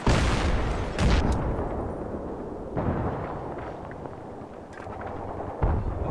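Tank cannon fire in the video game Battlefield 3, heard as several heavy booming blasts spaced a second or two apart over a dense, continuous rumble of battle noise.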